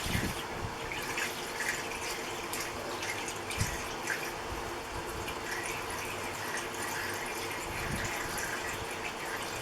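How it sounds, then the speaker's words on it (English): Coolant being poured into the engine of a 1968 Fiat 850 Spider, a quiet continuous trickle of liquid with occasional drips and small splashes, close up and with no speech. "We're putting in some of the coolant that leaked out of it when I first filled it up to test the first water pump."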